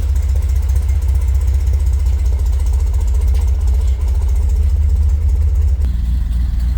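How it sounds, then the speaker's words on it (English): A Jeep engine that once needed ether to start idles with a steady, deep, close rumble, unchanging and alone. "Now it just starts up and idles."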